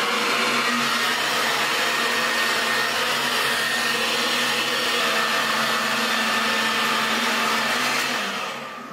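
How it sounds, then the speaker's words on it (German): A hair dryer blows with a constant, loud whooshing hum that runs nearly the whole time, then starts to fade at the very end. "dann wäre der Föhn ein bisschen laut"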